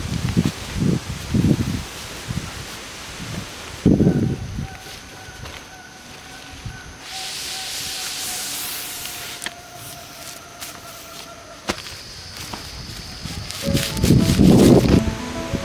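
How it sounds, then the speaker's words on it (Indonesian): Wind blowing through trees at a solo campsite in the forest, a steady rushing rustle of leaves with gusts swelling and fading, plus some closer handling noises and a faint tonal hum in the background. "Angin menyapu lembut wajahku"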